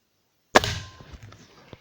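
A single sharp shot from a Beeman Mantis 10616GP air rifle cracks out after a moment of silence, followed by a short decaying rattle and a faint click.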